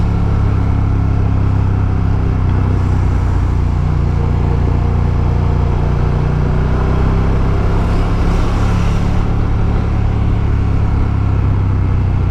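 BMW adventure motorcycle riding on a road during a commute, with a steady, loud engine drone and wind rumble running continuously up close, without talk.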